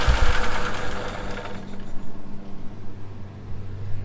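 An Atomic 4 gasoline boat engine runs with a busy, knocking rumble that thins out partway through, leaving a lower, rougher idle chugging on steadily to the end.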